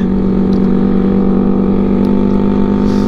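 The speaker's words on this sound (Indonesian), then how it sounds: "Aku tak tahu lah apa boleh dengar tak bunyi motor aku sekarang ni macam mana." A Yamaha R15 motorcycle with its exhaust missing runs with a loud, steady, raw engine drone. It holds an even pitch throughout with no clear rise or fall in revs, and no one talks.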